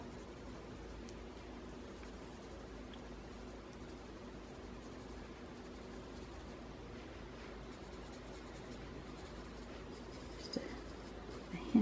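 A colored pencil moves very lightly over paper, making a faint, steady, continuous scratching that lasts throughout and stays quiet and close.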